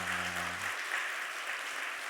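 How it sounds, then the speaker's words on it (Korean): Church congregation at a Sunday service applauds warmly and steadily, with a brief low hum of the last sustained tones at the start before the clapping carries on alone. "우리 너무너무 고맙다고 힘차게 한번 박수 한번 하도록"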